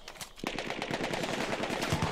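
Rapid gunfire from an M97 shotgun fitted with a choke in a first-person shooter game, a dense run of sharp blasts starting abruptly and continuing close and loud for about two seconds.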